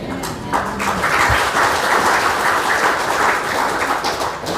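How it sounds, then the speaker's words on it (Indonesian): An audience at a sermon gives sustained, loud, even applause throughout, a dense wash of clapping with no break. "Tepuk tangan sama siapa?"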